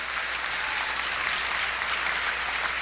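A church congregation applauds steadily, a dense, continuous wash of clapping from many hands filling the whole moment without pause.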